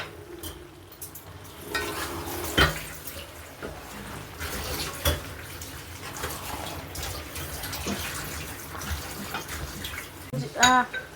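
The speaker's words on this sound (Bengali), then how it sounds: "এতে আমি এবার ভাজা চিংড়ি মাছটা দিয়ে ভালো করে মাখিয়ে নেব" Fried prawns are mixed into soft, cooked Malabar spinach in a pan, with wet, squelching stirring and scraping and a light sizzle close by, under intermittent talk.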